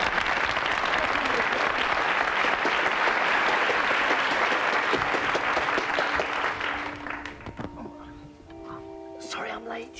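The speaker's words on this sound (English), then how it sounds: "a big round of applause for Gloria Honeyford!" Audience applauding a drag act on a comedy sketch show, dense and sustained clapping at full strength for about seven seconds before thinning out into scattered claps and studio noise.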